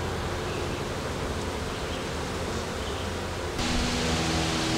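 A steady, dense hum of many honeybees buzzing inside a hive close by, continuous throughout, growing slightly louder and fuller near the end.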